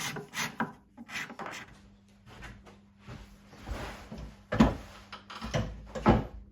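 Scraping and sanding on the wooden top of a hand-built archtop guitar, irregular bursts of rasping strokes separated by pauses, close and fairly loud, with a low background hum.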